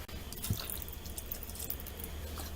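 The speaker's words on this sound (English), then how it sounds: "And add more water." Water poured into a pot of thick flaxseed gel back on the heat, heard as a close, wet splash and bubbling trickle with small drips, fairly steady throughout.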